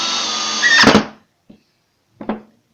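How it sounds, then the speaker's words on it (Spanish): A screw is driven hard into melamine-faced MDF with no pre-drilled hole: a loud, close powered whine builds into a grinding burst and stops, followed by two short knocks. "trataré de meterlo con fuerza hasta lograr que quede empotrado"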